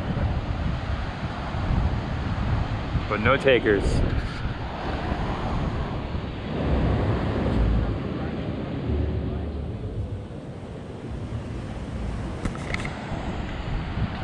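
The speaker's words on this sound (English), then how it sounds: "Check out this little wave coming in here." Small ocean waves wash onto a beach at Vero Beach, Florida on a cold day, a steady low surf rumble with wind noise on the microphone, while a person speaks briefly over it.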